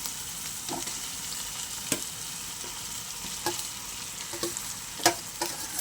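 Raw prawns fry with ginger garlic paste in a pan. A steady soft sizzle runs throughout, with repeated scraping stirs and sharp spoon knocks against the pan.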